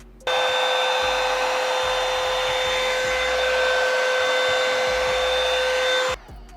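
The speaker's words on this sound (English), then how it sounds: "It is the Revlon blow dryer, and I got mine from Ulta." A Revlon blow dryer runs on its cool air setting, a steady close whirring drone with a high whine that starts abruptly and cuts off after about six seconds.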